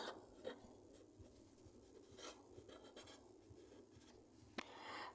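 Pen scratching on paper while a trigonometry problem is written out by hand, a quiet, close, uneven run of short strokes and rubs with small pauses between words.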